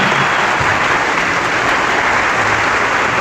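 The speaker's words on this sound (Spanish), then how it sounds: "Aplauso, aplauso." Loud, steady applause from a church congregation, dense continuous clapping without breaks, filling the space from start to finish.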